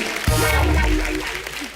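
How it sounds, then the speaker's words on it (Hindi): Studio audience at The Kapil Sharma Show, a Hindi TV comedy show, breaking into applause: a sudden loud burst of clapping that swells and then gradually tapers off over a short stretch. "अर्चना जी के लिए जोरदार ताली हो जाए"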